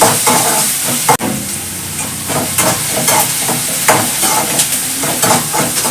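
Food frying in hot oil at home, likely cauliflower (gobi), makes a steady, loud, close sizzle and crackle that lasts throughout, with a few sharper pops and no voices.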